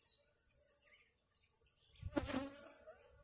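Honeybees hum around an open hive during an early-season inspection, a faint, steady insect drone that swells into a louder, closer buzz for about a second near the end.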